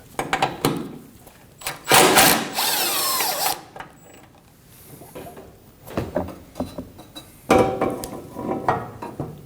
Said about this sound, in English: We'll also remove the 10mm holding in the center bumper support.